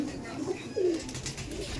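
An Abluk pigeon gives a few soft, low coos close by, over a steady background hiss.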